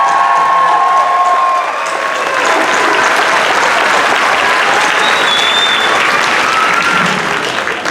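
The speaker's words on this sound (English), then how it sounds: "I think they deserve one more round of applause" Sustained loud applause from a large crowd at a graduation ceremony, a dense steady wash of many hands clapping with faint cheering mixed in.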